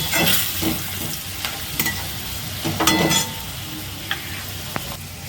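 Ground Kashmiri chilli, cumin, coriander and turmeric with grated ginger being stirred in a hot pan for a Bengali fish curry, giving a continuous close sizzle broken by scraping stir strokes, with no talk.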